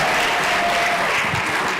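Loud, sustained audience applause at a national science and technology exhibition, a thick wash of many clapping hands close by, unbroken from start to finish with faint crowd murmur underneath.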